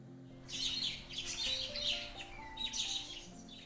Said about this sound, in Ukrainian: Ні. Це папуга.